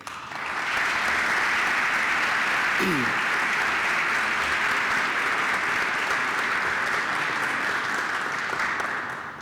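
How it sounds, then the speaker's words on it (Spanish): Sustained audience applause fills a lecture hall at a Lecture Series of the Americas event, a dense steady clapping that holds at full strength for most of the stretch before easing slightly at the end, with a brief voice cutting in near the start. "Para él solicito un fuerte aplauso."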